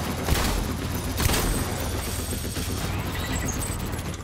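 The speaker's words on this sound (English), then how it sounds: "Let's try the shotgun." Shotgun fire in the video game Death Stranding: a few heavy blasts, the loudest two near the start, over a continuous rumble of combat noise.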